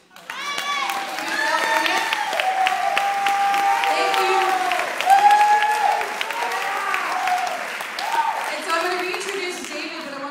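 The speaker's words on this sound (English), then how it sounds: "give you a round of applause." Audience applause at a stand-up comedy show for mental health, steady broadband clapping lasting throughout with cheering and voices mixed in, fairly loud and sustained.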